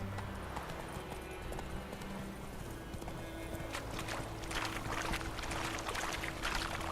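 Roach the horse gallops in The Witcher 3, rapid hoofbeats pounding in a fast rolling rhythm that grows louder toward the end, close, over game ambience, with no talk.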